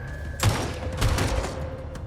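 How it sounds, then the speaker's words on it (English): Gunfire from a John Wick: Chapter 4 movie scene: a loud burst of shots at about half a second and a second volley a moment later, ringing over a steady cinematic background. "At that point, the tracker starts firing,"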